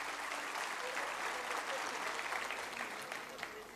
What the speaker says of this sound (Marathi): एकदा आपण जोरदार टाळ्या वाजवून साहेबांचं धन्यवाद देऊयात.